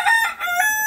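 A rooster crows loud and close in a short, high-pitched call with a strained, piping tone.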